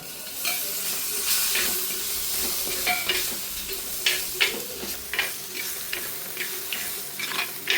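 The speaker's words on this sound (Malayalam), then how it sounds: "ഇത് മൂക്കാറായി ഇളക്കി കൊടുക്കുകയാണ്" Tomatoes are stirred in a hot frying pan while making South Indian rasam. A steady sizzle runs underneath, with irregular scraping and clacking strokes from the stirring that come close and more often toward the end.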